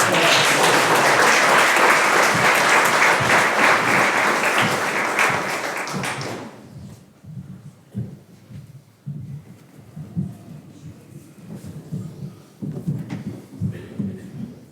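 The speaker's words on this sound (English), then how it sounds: "Big round of applause." A large crowd applauds loudly for about six seconds at a school board meeting, then the clapping dies away, leaving scattered room noise and a few faint claps.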